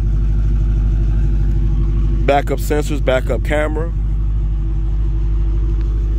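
A 2021 Dodge Challenger R/T with a Mopar sport exhaust holds a steady, deep idling rumble that continues throughout, while someone talks briefly in the middle.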